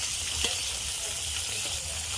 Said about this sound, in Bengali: এখন এই যে মাছ ভাজার জন্য দিয়ে দিলাম।